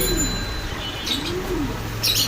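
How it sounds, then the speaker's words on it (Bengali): Pigeons coo in soft, rolling phrases at close range, with a brief chirp partway through and another toward the end, over a steady low background hum. "সাইকুল ভাই এটা কি কবুতর এটা কোটার"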